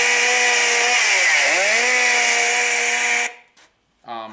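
A prop electric chainsaw, a haunted-house horror prop with the motor mounted on the side, blasts a loud, buzzing engine drone from its built-in speakers. The pitch dips and climbs back before the sound cuts off abruptly, followed by a brief voice.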